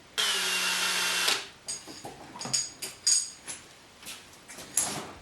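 Drift trike tire removal using a power driver with a 3/16 Allen bit, one loud whirring burst of about a second, followed by a series of metallic clinks and taps from handling parts.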